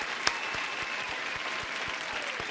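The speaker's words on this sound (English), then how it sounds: "Round of applause." A small group at a pub podcast recording claps loosely, with sparse, distinct individual claps in an uneven rhythm over a low room hum, one sharp clap standing out near the start.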